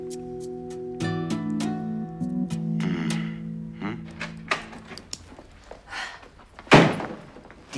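A door closes with a few sharp knocks and thuds amid a tonal electronic chime, ending in one louder slam near the end, heard in a German soap scene.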